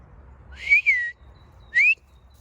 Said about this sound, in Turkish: ıslıkla çağırmak gerekiyor